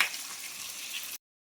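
Prawns frying in a pan give off a steady hiss and sizzle, close and moderately quiet, with no talking, before the sound cuts off abruptly.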